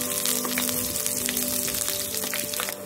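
Green chillies and curry leaves sizzle in hot oil in a pan while making ragi chiwda, giving a steady, close crackling hiss with fine popping throughout and no talking.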